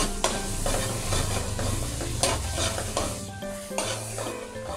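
Buttered seafood fries in a pan until browned, sizzling steadily while a utensil scrapes and stirs in repeated clattering strokes against the metal, close and clear with no speech.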